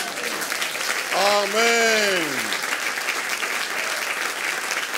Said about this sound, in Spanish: ¿No le da un aplauso a él, mi hermano?